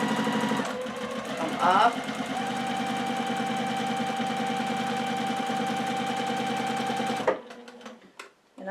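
A domestic sewing machine stitches free-motion quilting with a fast, steady mechanical chatter that runs under a voice for several seconds, then cuts off abruptly near the end.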